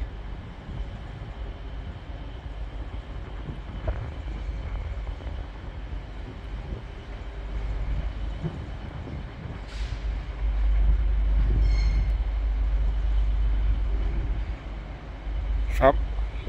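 A train rumbles into Sheffield station gradually, low and growing louder, with wind buffeting the microphone and brief squeals and hisses near the end.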